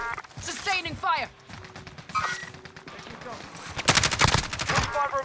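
Bursts of automatic gunfire in the shooter game Warzone, rapid rattling volleys that come and go, loudest near the end, with game radio voices talking over parts of the action.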